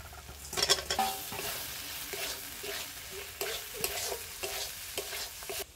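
Fried potatoes going back into a pan with a little water and a touch of sweetener, making a Bengali potato curry, with stirring clatter and bursts of sizzling across several strokes, close and fairly loud.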